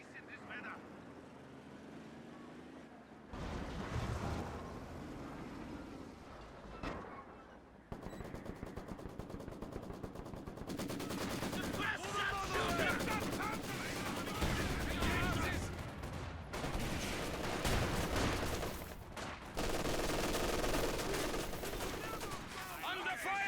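Sustained bursts of MG34 machine gun fire in the strategy game Company of Heroes 2, mixed with gunshots and battle noise, loud and continuous, while a voice talks over it.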